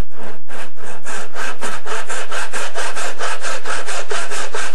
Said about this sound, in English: Just saw down that face at an angle